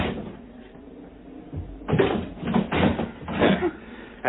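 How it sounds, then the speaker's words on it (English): Someone forces a cottage door, first muffled quiet rustling, then a series of heavy thuds and bangs as it is shoved and rattled, each impact loud and close on an old, narrow-band recording. "I'm going to try and force the door."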